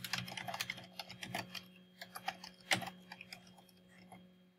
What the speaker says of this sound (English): And then you're going to just start typing your questions.